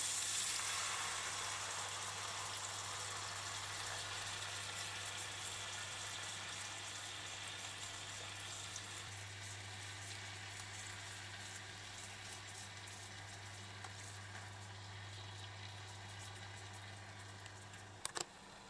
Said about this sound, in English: Place the salmon in a pan with sake and mirin and cook over medium heat